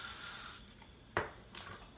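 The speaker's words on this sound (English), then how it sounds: "I'm going to take my spray" A short hiss of hairspray followed by a brief sharp rustle of hair and a second soft burst of spray, close and quiet.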